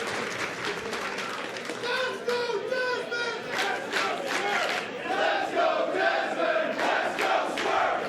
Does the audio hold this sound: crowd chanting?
yes